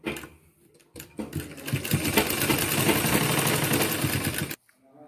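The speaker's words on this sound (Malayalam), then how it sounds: "ഇപ്പോ നമ്മൾ മുകളിൽ ചെയ്തതുപോലെ തന്നെ താഴെയും നമ്മൾ ഒന്ന് വെറുതെ സ്റ്റിച്ച് ചെയ്തു എടുക്കുന്നുണ്ട്" A sewing machine stitching a medical apron, starting with a brief burst, then running in a loud steady whirring rattle for about three and a half seconds before stopping abruptly.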